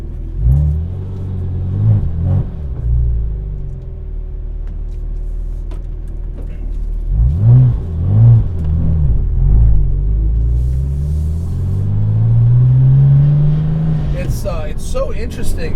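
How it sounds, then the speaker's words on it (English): A wide-body Porsche Cayman with a naturally aspirated 4.2L engine revs while driving, its exhaust note rising and falling in several climbs, one long sweep building near the end over steady road rumble, heard from inside the car. "Whereas this motor, you really do have to rev it, even in such a light car as this."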